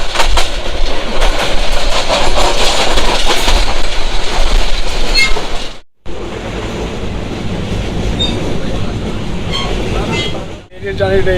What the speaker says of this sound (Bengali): আজকে বাইক রেখে ট্রেনে যাইতেছি